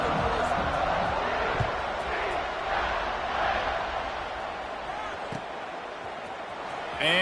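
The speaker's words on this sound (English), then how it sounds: "this crowd is buzzing after that last score" A football stadium crowd after a touchdown gives a broad, steady roar and buzz, heard at a distance and continuing under a commentator's talk.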